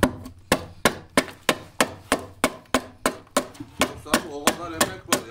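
An adze chopping into wood while carving the body of a saz, steady rhythmic blows about three per second, each a sharp close thwack with a short decay, loud and alone.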